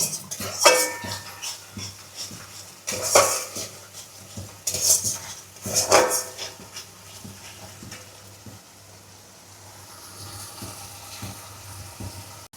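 Prawn masala sizzles in oil in a pan for a Bengali Chingri Malaikari while a metal spoon scrapes and clinks against the pan in repeated stirring strokes, close up over a steady frying hiss.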